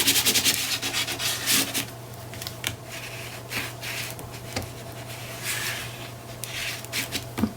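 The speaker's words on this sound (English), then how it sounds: "Now I can go ahead and burnish the rest in place." Paper being burnished in place on a Graphic 45 scrapbook page, a soft, close rubbing and scraping in uneven strokes over a faint steady hum, with no talking.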